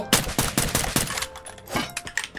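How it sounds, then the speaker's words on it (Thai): Rapid automatic gunfire rattles in Free Fire, a loud, close string of evenly spaced shots that breaks into a shorter second burst. "แล้วเราก็จะยิงเขา"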